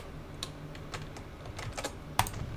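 Keystrokes on a computer keyboard while playing Transport Fever 2, a few light scattered clicks with one sharper, louder tap near the end, quiet and close with no talking.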